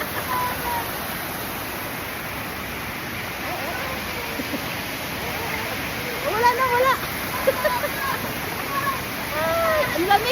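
A cold, clear river rushes in a steady broad roar that fills the whole stretch, with a few voices and brief exclamations rising over the water toward the end.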